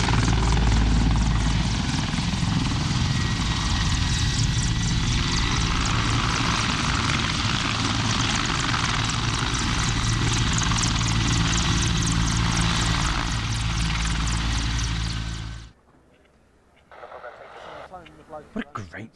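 Aircraft of the French national aerobatic team roar past at an airshow, a loud, sustained engine rush that holds for about fifteen seconds, then drops away abruptly into quiet, with voices talking over it.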